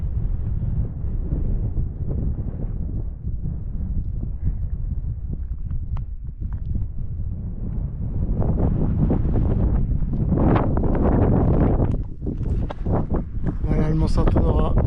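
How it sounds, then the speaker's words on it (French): Wind gusts buffet the microphone on a solo mountain hike up Mont Saint-Honorat above the Haut-Var valley, a steady low roar that swells louder in the second half, with a voice speaking over it. "Il y a un vent qui s'est levé là."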